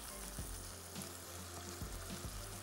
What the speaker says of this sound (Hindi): कीमे को बहुत अच्छी तरीके से भूनना है